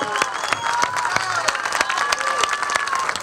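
An audience at a press conference breaks into applause, a lively burst of many hands clapping with scattered cheers, sharp individual claps standing out against the steady roar.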